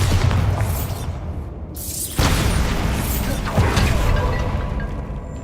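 Bombarda spell explosions in Hogwarts Legacy, two heavy booming blasts a second or so apart, each with a whooshing burst and rumbling tail, loud and close over continuous game ambience, with some talk present.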